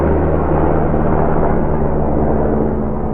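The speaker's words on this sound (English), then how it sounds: "sorry about the helicopter, we are in Los Angeles" A helicopter passes low over Los Angeles, a loud, steady, rumbling drone that holds evenly throughout with no voices over it.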